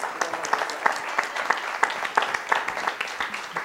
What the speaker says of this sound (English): Please give a huge round of applause to our amazing speaker.